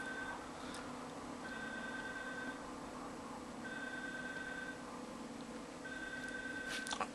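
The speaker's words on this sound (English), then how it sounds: "oh, my phone's going off." A mobile phone rings in three short repeated bursts of electronic tone over a steady background hum, with a few faint clicks between.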